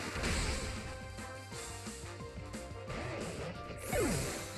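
Flash Cannon attack in a Pokémon battle game: a dense burst of crashing, metallic effects over steady game music, ending with a bright rising swell and a falling zap.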